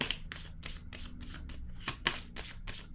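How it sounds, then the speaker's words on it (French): Cards handled during a tarot-style card reading, a quick run of crisp papery flicks and riffles, roughly ten close, light snaps in fast succession as cards are shuffled and laid down on a table. "je vais déposer une carte ici"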